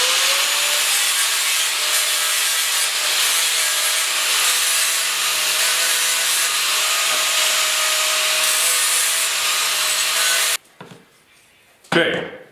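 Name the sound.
grinding down a tack flat on a plant table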